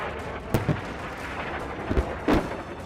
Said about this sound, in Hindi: मोर्चा संभाले इजराइल की तोपें गाजा पर ताबड़तोड़ गोले दागती नजर आईं